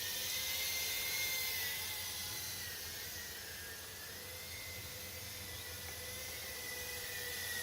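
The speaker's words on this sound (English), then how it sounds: "I wouldn't have realised just how much fun you could have with such a tiny drone." A tiny whoop-style drone with propeller guard hoops flies over a garden on a warm day, its high, thin motor whine droning continuously, slightly fading mid-flight then rising again, with no talking.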